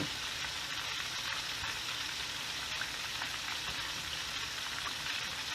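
Freshly caught fish frying in a pan, a steady, dense sizzle that stays loud and close throughout with faint crackles and no talking.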